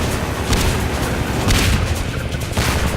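Bombs dropped from a helicopter explode in the video game Half-Life 2, producing loud, continuous booming blasts and rumbling detonations that fill the whole stretch with dense, heavy noise.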